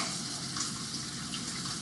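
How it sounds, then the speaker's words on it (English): Water pours into a cooking pan to stop food sticking, making a steady, fairly quiet rushing hiss with light sizzle-like texture throughout. "I'm going to put in some water with that so that it doesn't stick."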